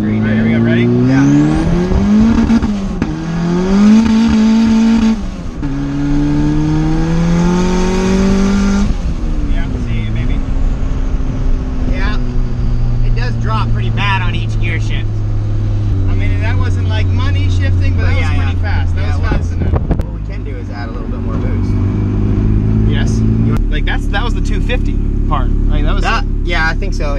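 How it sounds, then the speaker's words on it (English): A cheap turbocharged Honda Civic engine revs hard on a full-throttle pull, rising through gears with loud, sweeping engine tones and brief drops at shifts, close and dominant, with people talking over it at times. "We're gonna do one more like good rip to make sure the car is good for the track"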